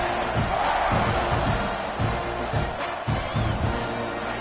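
A stadium crowd at a football game roars steadily through the whole stretch, a dense wash of cheering and shouting with a few louder swells, continuous and enveloping rather than distant.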